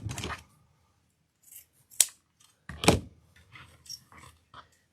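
Scissors cut ribbon for a Christmas chicken wreath: two crisp, close snips about a second apart, with faint handling rustles around them in a quiet room.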